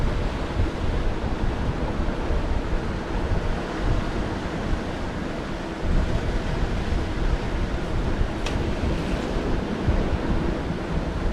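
Ocean swell surging against a sea cliff, a steady broad roar of surf with wind buffeting the microphone, continuous and loud with no breaks.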